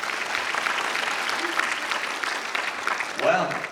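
Comic convention crowd applauds in a hall after a fan's question, a steady wash of clapping filling the room, with a brief voice rising near the end.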